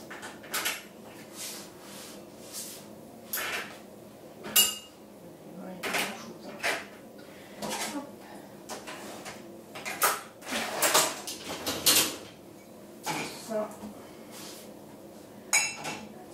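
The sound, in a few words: breakfast cups and dishes loaded into dishwasher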